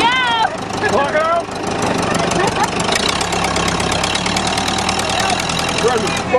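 A Case backhoe's diesel engine idles and labors with a knocking, clattering chug while the rear bucket works, loud and close, with a person shouting over it.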